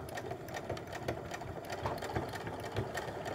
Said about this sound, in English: just make sure that take a couple stitches, backstitch up to the top